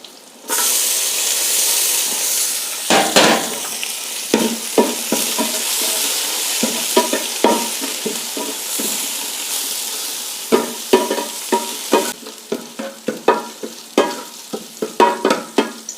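Shallots, garlic, curry leaves and green chilies sautéing in hot oil give a loud, dense, close sizzle broken by frequent spatula scrapes and stirring clatters.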